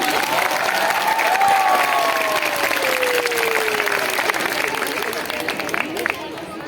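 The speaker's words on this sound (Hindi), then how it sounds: "मैं चाहूंगा एक बार जोरदार तालियां।" Loud, sustained applause from a large crowd at a protest rally, dense and steady clapping that slowly thins toward the end.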